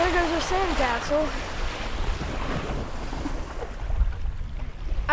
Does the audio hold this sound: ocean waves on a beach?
yes